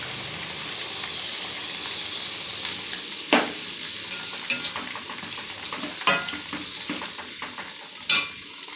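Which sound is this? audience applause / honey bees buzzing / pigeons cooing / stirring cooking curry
stirring cooking curry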